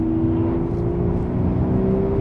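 A V12 car engine pulls hard while driving, a loud, smooth, steady drone with a slowly rising pitch, heard from inside the car with no talking.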